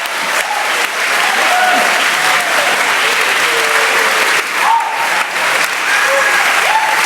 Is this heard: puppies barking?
no